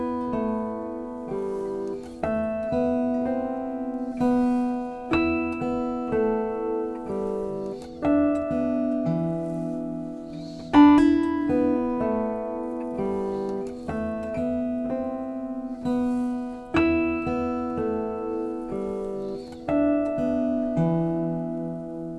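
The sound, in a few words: acoustic guitar piece with artificial harmonics and thumb melody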